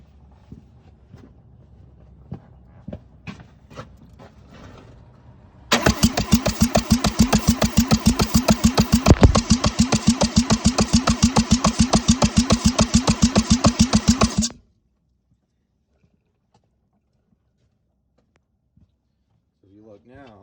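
A Mazda 13B rotary engine with a suspected coolant seal leak cranks, catches and runs loudly for about nine seconds with a rough, rapid gargling pulse, then shuts off into silence; faint handling noises come before it starts.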